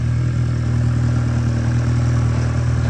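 A 2019 Volkswagen Jetta with a 1.4 liter engine and automatic transmission runs steadily at idle, a loud, close, even hum with a faint mechanical clatter and no talking.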